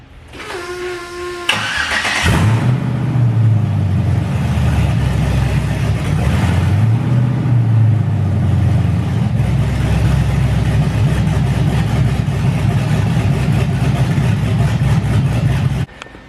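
A 1986 GMC Sierra truck with an LS swap engine cranks and fires up after a brief starter whir, then settles into a loud, steady idle with a slight rev, running alone and close by for the rest of the clip.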